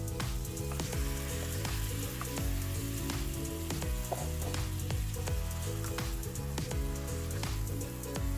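Chicken pieces hit a hot pan for a creamy chicken pastel, a steady close sizzle and crackle of frying running throughout, with faint stirring clatter and no talk.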